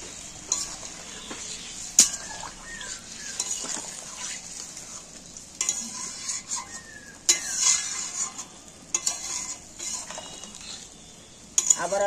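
Paneer and boiled soybeans cook in a pan, giving a soft steady sizzle broken by spatula scrapes and stirring clatter against the metal, close and fairly quiet with no talking.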